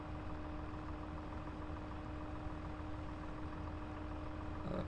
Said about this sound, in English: This tractor I'm in used to be quite a big tractor, but it's dwarfed by everything these days.